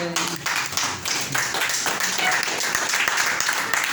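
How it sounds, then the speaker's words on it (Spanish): A congregation claps during a Spanish-language sermon, a dense, fairly loud burst of hand-claps lasting several seconds with a voice briefly audible at the start. "Un aplauso a Jesucristo"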